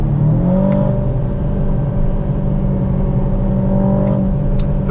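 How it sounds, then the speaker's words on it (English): The V8 engine of an Aston Martin DBX 707 accelerating, a steady deep rumble with a rising tone, heard from inside the cabin, loud and continuous without talk. "Nice sound. I love the V8 sound."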